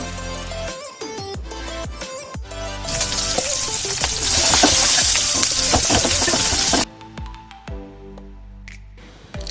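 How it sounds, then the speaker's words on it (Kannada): Onions fry with ginger and green chilli in oil for upma, a soft crackle that swells into a loud, close, hissing sizzle and then cuts off abruptly to quieter stirring. "ಈರುಳ್ಳಿ ಫುಲ್ ಪಿಂಕಿಶ್ ಕಲರ್ಗೆ ಟರ್ನ್ ಆಗೋ ತನಕ ನಾವು ಫ್ರೈ ಮಾಡಬೇಕು"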